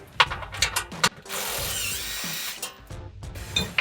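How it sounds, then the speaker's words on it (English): A ratchet clicks in short close bursts while 10mm screws are loosened under a Jeep Gladiator near the muffler, with one longer continuous whirring run in the middle and brief pauses between turns. "There'll be 5 10mm screws. Remove those screws."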